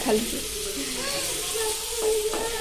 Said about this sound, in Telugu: చికెన్ వేసుకొని కలుపుకోవాలా?